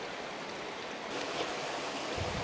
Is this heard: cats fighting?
no